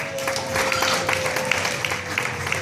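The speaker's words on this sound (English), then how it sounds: "let's give them one more round of applause" Audience giving a round of applause at a live stage show, with soft, fairly steady clapping that sounds distant and crowd-like beneath a sustained tone.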